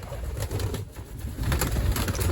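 Pigeons coo inside a loft, soft low throaty calls repeating close by in a continuous murmur, with no talking over them.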